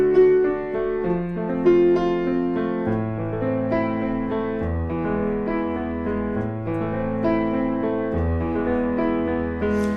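Piano rolling a steady broken-chord arpeggio in the style of a classic rock guitar part, a continuous flowing pattern of notes with sustained bass, played alone without talking.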